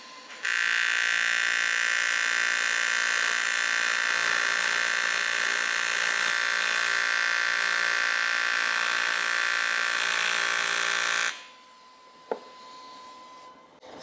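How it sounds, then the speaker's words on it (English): Arc welding on a scrap metal hot rod bracket gives a steady, loud electric buzz and hiss lasting about eleven seconds, then cuts off, leaving a quiet room with a single sharp tap. "I'm just gonna try and go for as big of a weld as I can do on this side"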